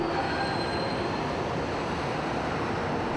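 A subway train runs with a steady, loud rumble and roar of wheels on rails, faint high squeal tones drifting over the continuous noise.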